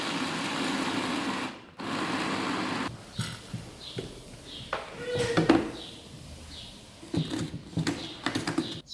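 An electric grinder whirs through almonds in short, uneven bursts close by, switching on and off with grainy rattling between pauses.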